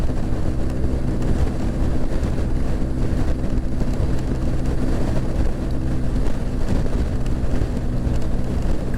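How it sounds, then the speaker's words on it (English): Strong wind buffets the microphone in a constant loud roar while riding a BMW R1250RT motorcycle across a bridge, with a low engine rumble underneath throughout. "It gets real windy on this bridge."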